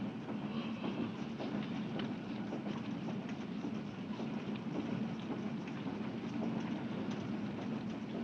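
A passenger train rolls steadily along the rails, a continuous rumble with a fast clickety-clack of wheels over rail joints, heard from inside the carriage at moderate volume, with no talk.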